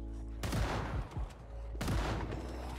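Gunfire from the video game Project Zomboid: two sharp, loud shots about a second and a half apart, each trailing into a ringing decay, with a fainter crack between them.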